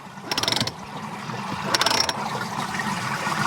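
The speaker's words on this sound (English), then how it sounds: "So you can manually move the drum" A swimming-pond drum filter's drum is turned by hand. It gives two bursts of rapid ratcheting clicks over a low background hum, the second slightly louder.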